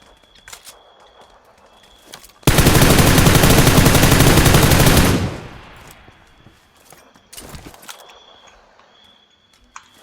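An M16 rifle in the PUBG video game fires one continuous fast burst of about three seconds, loud and close, with quieter footsteps and small clicks before and after.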